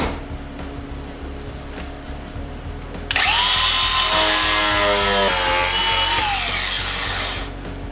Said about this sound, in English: More cutting required, and cutting he did